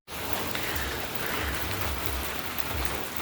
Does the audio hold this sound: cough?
no